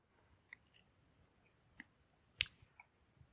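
A single soft mouse click lands on a Close button, one sharp, faint tick against near silence, with a few tiny clicks and taps scattered around it.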